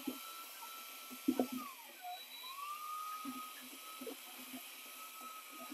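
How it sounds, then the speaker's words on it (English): A power drill on low speed mixes epoxy, whirring steadily, its pitch dipping and rising, with faint scraping and knocking underneath. "take my drill, put this on low speed."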